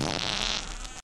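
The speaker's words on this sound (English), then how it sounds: "So it's like a farting language." A cartoon fart noise from an animated alien character, a single loud, wet, sputtering blast that fades out quickly, with no talking over it.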